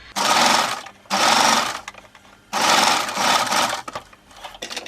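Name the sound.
sewing machine stitching darts on jumpsuit fabric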